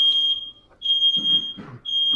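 A smoke alarm going off indoors, a loud shrill piercing beep repeating in long on-off bursts, with muffled low sounds between the beeps.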